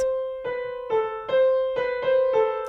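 Several piano notes from Carol of the Bells struck in a row with the finger left on the key, each ringing on and blurring into the next instead of stopping cleanly, played close with no voices.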